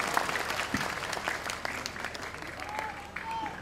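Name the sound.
audience applause for Ustadz Abdul Somad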